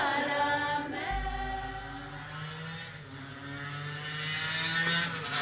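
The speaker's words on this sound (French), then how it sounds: "On va le refaire sans le bruit de la moto derrière" A motorcycle engine drones steadily in the background with a low, continuous hum that swells slightly toward the end, heard alone without talk.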